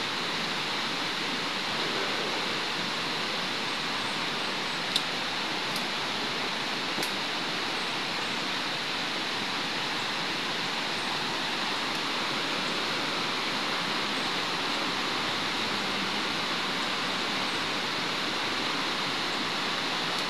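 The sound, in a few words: flowing river water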